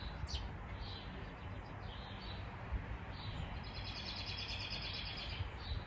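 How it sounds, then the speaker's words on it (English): Small birds chirp faintly outdoors in brief, scattered calls over a steady, quiet background hiss, with no voices present. "if you hear some birds and whatnot that you don't normally hear"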